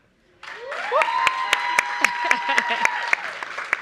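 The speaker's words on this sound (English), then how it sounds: "this is an all-woman panel" Applause from an audience at a logistics trade forum greets an all-woman panel, with sharp claps running throughout, while a tonal hum or musical sting and some voices sound underneath.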